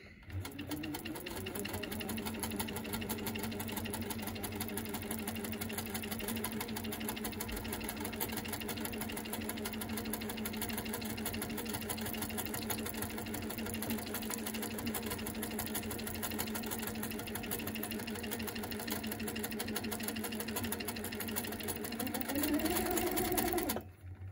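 A sewing machine doing free-motion quilting stitches around fabric applique runs at a steady, fast, buzzing whirr for over twenty seconds without pause, close and even in volume, slowing only briefly near the end.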